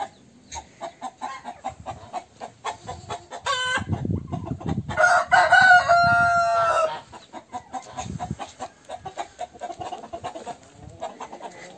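Farmyard chickens, including a fluffy hen, cluck close by in bursts, with a rooster crowing partway through, amid some rustling and background noise.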